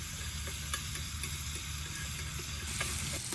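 Bacon sizzles in a pan on an emergency cooking setup, a continuous crackling fry with small pops, steady and close with no talking.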